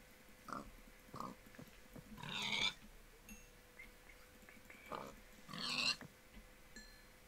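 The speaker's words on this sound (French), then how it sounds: "J'ai tué 2 cochons" Pigs in the Minecraft video game grunt and oink in a repeating pattern, short grunts followed by longer squealing oinks twice, fairly faint over a quiet background hum.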